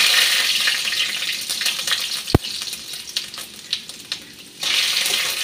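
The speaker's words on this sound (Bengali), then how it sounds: "5 ফোড়নটা দিয়ে দিচ্ছি।" Bengali five-spice tempering sizzles in hot oil in a close, continuous hiss, broken by a sharp clack and a few stirring knocks before the sizzle swells again near the end.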